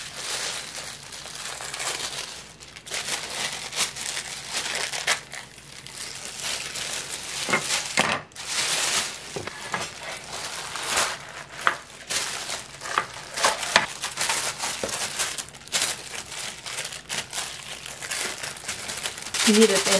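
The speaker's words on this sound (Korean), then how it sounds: "비닐을 빼내겠습니다." Plastic film peeled away from rolled-out pie dough for an apple pie, giving a continuous crinkling and crackling rustle that swells and fades over about twenty seconds, fairly close.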